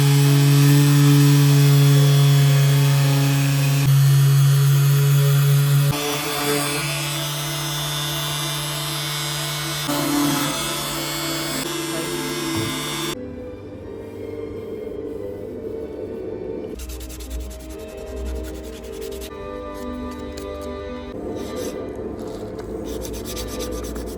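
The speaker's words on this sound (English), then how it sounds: "I sand all the parts of the dresser, alternating between the sander and hand sanding." An antique dresser is sanded to strip old varnish, first with a loud droning power sander, then by hand with steady rasping strokes of sandpaper on wood, close and continuous with no talking.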